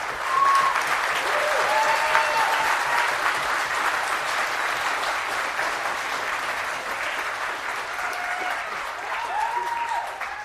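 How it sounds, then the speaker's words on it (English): A crowd inside a tent at the EMF 2014 opening ceremony breaks into sustained applause, a steady roar of many hands lasting around ten seconds with a few faint whistle-like tones above it. "thank you for the unexpected applause."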